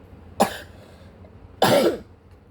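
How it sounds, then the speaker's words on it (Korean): Two short coughs, close and clear, separated by about a second of quiet. "기침을 했어?"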